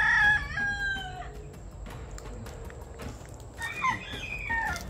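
Chickens cluck and a rooster crows at a backyard chicken coop, with a loud crow at the start and another burst of crowing and clucking later over a low background murmur.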